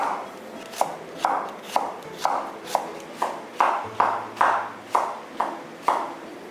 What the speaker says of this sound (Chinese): 现在把茭白切成丝